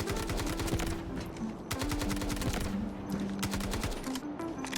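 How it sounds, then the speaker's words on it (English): Automatic gunfire in the mobile shooter game Delta Force Mobile during target practice, rapid rattling bursts that run loud and dense, broken by a brief pause partway through, with no talk. "make sure we're shooting all of these targets as we're moving"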